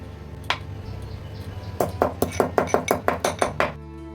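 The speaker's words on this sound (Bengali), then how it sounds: "যে শুকনো লঙ্কাটা ভেজে তুলেছিলাম ওটা কুটে নেব।" A knife chops fried dried red chilli on a board for a raw-mango dish, one lone knock followed by a quick rhythmic run of about nine sharp, close chops.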